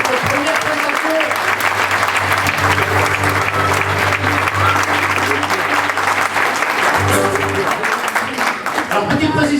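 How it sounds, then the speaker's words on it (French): A loud, sustained burst of audience applause at an improv match greets both teams, dense clapping with some crowd murmur and a low hum running beneath it. "On applaudit les deux équipes pour cette première présentation."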